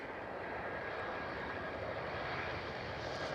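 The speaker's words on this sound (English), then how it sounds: "Right behind KLM 737." KLM Boeing 737 jet at Schiphol airport, a continuous broad engine roar held at steady loudness throughout, fairly distant with no break.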